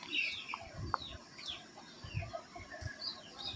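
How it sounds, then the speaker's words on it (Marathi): Free-range desi chickens wander a forest-edge poultry farm, giving soft, scattered clucks and short calls at moderate distance over a steady low outdoor rumble, with no talking. "हे सगळीकडे आपले कोंबडे फिरायला जातात फ्री रेंज पोल्ट्री फार्मिंग।"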